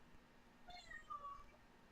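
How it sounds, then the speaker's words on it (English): A female cat gives a drawn-out meow, faint and somewhat distant over a quiet background hum, rising and falling in pitch for about a second. "Sorry about my cat, guys. I don't know why she's meowing so loud."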